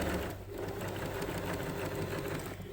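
A sewing machine stitches fabric for an applique, running in a steady, continuous whir close to the microphone for the whole stretch with no voices.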